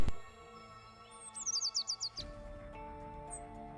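A mynah bird gives a quick series of about eight rapid chirps in a burst, clear and fairly close, followed by one more faint chirp, over a soft musical background.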